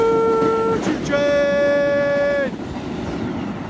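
A train horn sounds two loud blasts, a short one and then a longer sustained tone, over a rumbling background.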